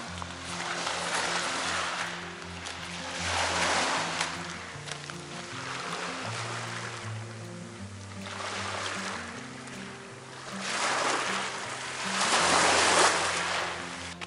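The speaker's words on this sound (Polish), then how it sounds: "Teraz tak tylko woda, cisza, szum fal." Adriatic Sea waves at Drvenik, Croatia rush and swell in slow surges, rising and falling in a steady rhythm with a low rumble underneath and no voices.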